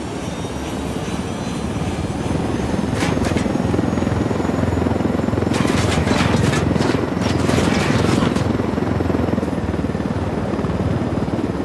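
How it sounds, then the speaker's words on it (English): A helicopter in the shooter game Ghost Recon Wildlands thrums steadily with a loud, continuous rotor and engine drone. Short bursts of sharp crackling, like gunfire, break in over the top partway through. "Helicopter, get down."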